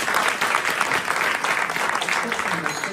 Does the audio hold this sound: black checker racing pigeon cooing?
no